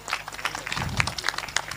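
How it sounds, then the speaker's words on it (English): Audience clapping at a school panel event, a short burst of scattered hand claps, moderately close and fairly sparse, with a faint voice underneath. "A big round of applause."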